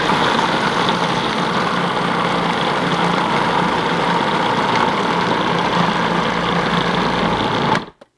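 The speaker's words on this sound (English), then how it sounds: "And I will I grind it first a little bit." A food processor or grinder grinds raw shrimp for shrimp on sugar cane, a steady loud motor whir running for about eight seconds, then cutting off abruptly.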